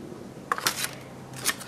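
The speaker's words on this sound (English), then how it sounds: "So now to cut, it's just a matter of taking your scissors" Scissors cut through thin can metal along marked lines for a mosaic craft, heard as a few short crisp snips and clicks spaced out over a quiet background.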